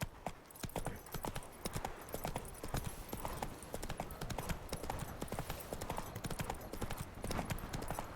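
Roach the horse in The Witcher 3 trotting, a brisk, regular clip-clop of hooves repeating steadily and close, with quiet game ambience beneath.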